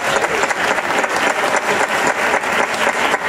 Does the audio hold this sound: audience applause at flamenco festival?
yes